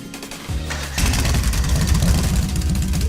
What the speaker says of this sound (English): Right then, first up is starting the engine.